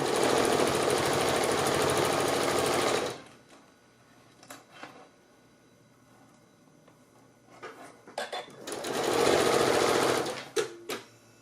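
A sewing machine stitches a three-layer pleated fabric mask with filter pocket, running in a loud steady whir for a few seconds, pausing while the fabric is folded with light handling clicks, then running again briefly.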